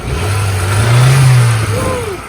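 An Acura Integra with a turbocharged B18 engine revs once, close and loud, its tone climbing to a peak and settling back within a couple of seconds.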